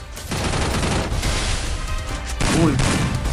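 Gunfire in the Free Fire battle-royale video game, a dense fusillade of rapid shots filling the clip at steady loudness, with a brief pause and then a louder burst near the end, under a commentator reacting to a PvP fight.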